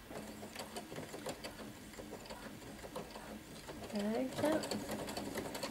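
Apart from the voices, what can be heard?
sewing machine topstitching and backstitching a skirt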